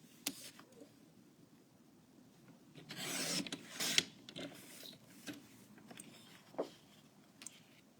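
Labels are trimmed off striped paper, probably with a paper trimmer: a couple of short rasping, scraping cuts in a quiet room, the longest two close together near the middle, with a few faint rustles and taps after.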